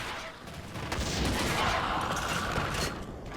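Heavy bowgun fire in Monster Hunter 3 Ultimate: a dense, sustained barrage of rapid game gunshots and mechanical clatter, loud and continuous without any pause.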